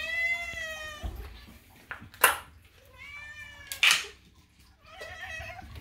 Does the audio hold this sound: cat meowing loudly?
yes